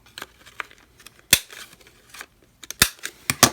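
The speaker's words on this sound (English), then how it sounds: "First I'm gonna round the corners though." A handheld corner rounder punch snaps through paper corners on a file folder pocket for a junk journal, giving sharp, close clicks in an irregular series with quiet rustling between them.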